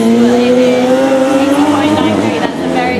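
A Formula Student race car laps during the FSG 2012 endurance event, its engine droning and climbing in pitch as it passes close and loud, with a commentator talking over it.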